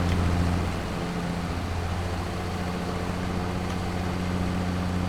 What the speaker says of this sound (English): this is a medium tractor, 150 horsepower.